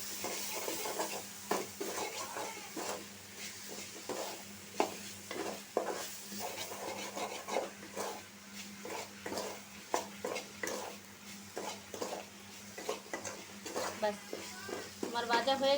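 Dried chapa shutki fish being dry-roasted in a pan, with rhythmic scraping and clattering of a spatula over a soft sizzle, near and steady, while a voice talks now and then.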